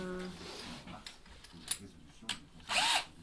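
A power drill whirs up in a short, loud burst near the end, after scattered clicks and handling noises; a voice murmurs faintly in the background.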